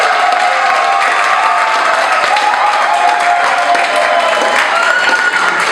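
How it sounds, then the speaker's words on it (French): Sustained applause from a large crowd at a civil wedding ceremony fills the room, dense and loud without pause, with scattered cheers mixed in. "sous vos applaudissements"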